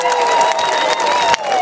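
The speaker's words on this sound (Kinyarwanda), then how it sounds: "dukomere Imana amashyi abiri hano turi kumwe" At a gospel concert, a crowd bursts into loud applause and cheering, with a sustained high whistle or sung tone running over the noise and a few sharper claps cutting through.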